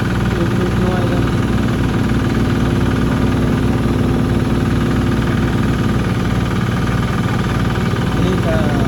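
A rot e-taen farm truck engine runs steadily in a hilly Thai village on a red dirt track, a loud, continuous chugging drone with a knocking pulse while someone talks over it.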